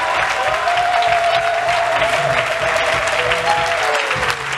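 A church congregation applauds in steady, sustained clapping that fills the room, with a voice speaking over the applause.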